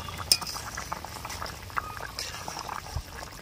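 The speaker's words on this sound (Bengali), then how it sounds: "এবারে ঢাকনাটা খুলে নেব।" A pot lid comes off a simmering potato and brinjal fish curry on a low village stove, with a metallic clink followed by soft bubbling and faint liquid sounds, close and quiet.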